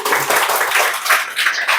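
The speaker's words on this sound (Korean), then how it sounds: "감사의 찬양 박수를" Loud, close applause fills a Korean church thanksgiving and 20th-anniversary worship service as the congregation claps in praise, a dense continuous roar of many hands with faint voices underneath.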